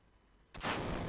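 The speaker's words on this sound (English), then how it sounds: "We like roof explosions" A sudden booming roof explosion in the Final Fantasy VII video game, a sharp onset after near silence followed by a loud, broad rumbling blast.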